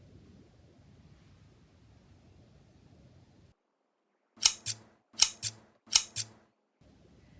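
Scissors snip through wig lace along the hairline near the ear tab, giving three close, crisp double-snip pairs in quick succession, with a faint low hum before and after.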